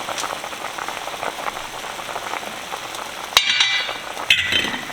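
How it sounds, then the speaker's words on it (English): A pot of chicken broth bubbles at a full rolling boil on the stove with a steady low hiss and churn, broken near the end by a couple of sharp metallic clinks. "Okay, it's at a full boil right now."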